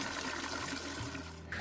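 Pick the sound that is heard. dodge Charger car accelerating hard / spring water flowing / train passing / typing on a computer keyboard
spring water flowing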